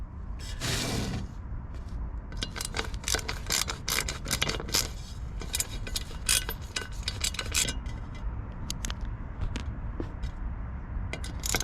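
Mechanical clicking and ratcheting while a mass air flow sensor is unscrewed from the factory air intake of a 2019 Chevy Silverado, a dense run of sharp metallic ticks and clacks at close range, with no talking.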